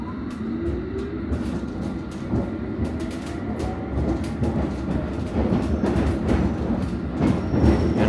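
Riding a London Underground Piccadilly line train toward Heathrow, a continuous loud rumble of wheels on track with rapid clickety-clack rail joints and faint squeals, heard from inside the carriage without talk.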